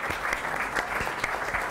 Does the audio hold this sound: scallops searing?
no